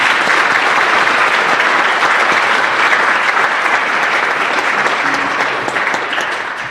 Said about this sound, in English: So how about a round of applause for you?